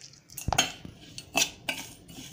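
Spoon clinking and scraping against a metal bowl while grated mango chhunda pickle ingredients are mixed, a handful of sharp irregular clatters close up with quiet gaps between.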